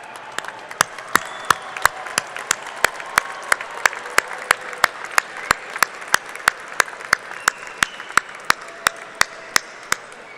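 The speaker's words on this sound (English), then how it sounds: "give them a big round of applause for all their support" Graduation crowd applauding in a large arena at a college commencement, a broad sustained roar of clapping with sharp, regular claps standing out close by throughout.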